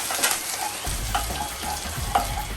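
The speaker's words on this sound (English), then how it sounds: "I'm just going to tear a few leaves and add it. Give it a rough stir." Torn curry leaves sizzling in hot oil in a pan for misal pav, a steady frying hiss with a few sharp crackles and low scraping thumps as the pan is roughly stirred.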